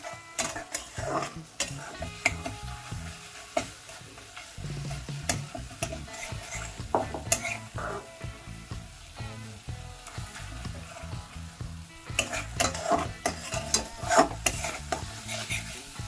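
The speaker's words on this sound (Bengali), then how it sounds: "টমেটোর সঙ্গে মশলাটা খুব ভালো করে আমি নাড়াচাড়া করে মিশিয়ে নেব" Spice masala and tomato stirred in an oiled pan for a green banana curry, with irregular close scraping and clinking of a spoon against the pan over a low sizzle, no talk.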